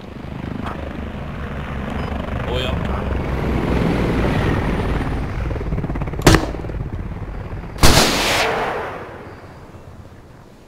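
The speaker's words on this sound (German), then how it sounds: "der Heli geht gerade runter mit wahnsinniger Geschwindigkeit" A helicopter in a video game war battle descends fast, its rotor and engine roar swelling into a loud, dense drone, broken by two sharp explosive bangs near the end before fading, with a brief spoken word early on.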